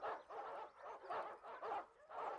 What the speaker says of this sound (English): the dogs were taught to suppress their most natural instinct: barking.